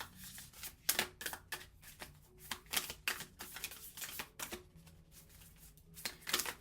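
Oracle cards being shuffled by hand in a quiet room, giving a run of crisp, irregular riffling clicks and snaps close up, with no talk.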